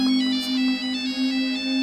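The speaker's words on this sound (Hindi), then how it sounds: "फोन बज रहा" A mobile phone rings with a steady electronic tone that pulses in a regular pattern, loud and close, with no talking.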